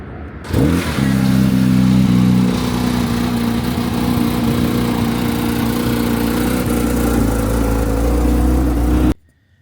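A car engine starting up and running while the car is driven away in Dubai, a steady loud idle-to-drive hum with low engine tones, heard on its own for about nine seconds.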